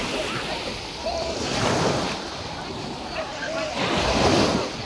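Sea waves wash onto a beach in Antalya in soft, repeated surges with wind noise on the microphone and faint voices in the background.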